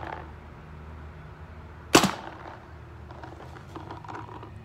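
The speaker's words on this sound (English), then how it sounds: "this thing shoots really good with that zero kick hammer" A Tippmann A5 paintball marker with a zero kick hammer fires one sharp, loud shot over a chronograph, followed by quieter mechanical ticking and low background noise.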